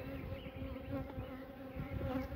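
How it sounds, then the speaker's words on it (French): Old honeybees humming at a small hive during an inspection, a steady close buzz that holds without a break. "Les vieilles abeilles là."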